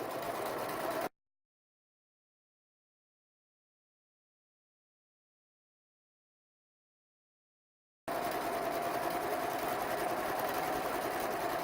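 Sewing machine straight stitching fabric along a 5/8 seam line, a steady close mechanical whir heard in two bursts at the start and end, separated by a long stretch of silence.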